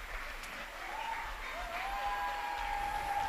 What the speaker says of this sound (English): Taking a great hand from the crowd tonight.